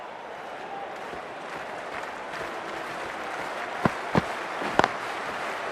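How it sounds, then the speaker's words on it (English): A cricket crowd at a match applauds and cheers in a continuous distant wash of clapping and voices, with a few sharper bursts near the end. "already the crowd is up and about"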